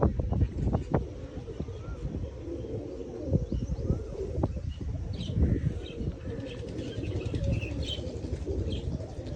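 A pigeon cooing and flapping its wings near a rooftop perch, soft bird calls and feather flutters mixed with ongoing outdoor background noise.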